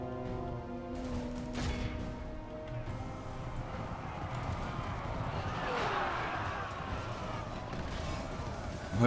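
Cavalry horses charge into battle in Medieval 2, a dense rumbling clatter of hooves mixed with clashing combat noise and battle cries, continuous and loud throughout with a swelling surge near the middle.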